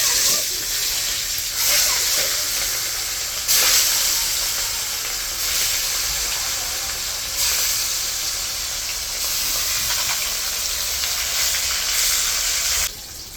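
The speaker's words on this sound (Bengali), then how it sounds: "কড়াইটা গরম হয়ে গেছে তেল গরম এখন মাছগুলি ভেজে" Pieces of a 3.5 kg rohu fish fry in hot oil in a wok, giving a loud continuous hissing sizzle that surges and eases in waves over several seconds, close and without talk.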